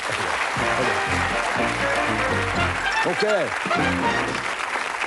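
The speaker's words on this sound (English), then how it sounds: "Give him a round of applause" Studio audience on a game show applauds steadily under a host's voice and music, the clapping filling the whole moment at moderate volume.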